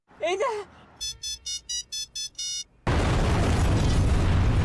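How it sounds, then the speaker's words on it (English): Soul Knight's Trapmaster sets off Telecontrolled Bomb explosions: a short rising game cue, then a run of seven even electronic beeps leading straight into a loud, sustained roaring blast that fills the rest of the moment. "The Trapmaster's first skill is Telecontrolled Bomb, and it's basically the Trapmaster dropping bombs"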